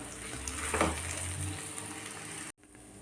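Beaten eggs sizzle and crackle as they are scrambled and fried in a pan, bhurji-style, for egg fried rice. A steady, close frying hiss runs for about two and a half seconds, then cuts off abruptly into quiet room tone.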